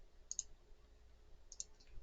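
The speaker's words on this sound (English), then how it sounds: "clicking the icon on your desktop or searching Avigilon here and hitting open" A computer mouse clicks twice to open Avigilon Unity software, two faint, crisp clicks about a second apart in an otherwise near-silent room.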